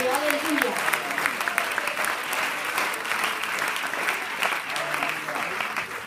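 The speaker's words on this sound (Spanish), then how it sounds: "Aplauso para la gloria de Dios." A church congregation breaks into sustained applause, thick continuous clapping from a full room lasting the whole stretch, with voices cheering through it.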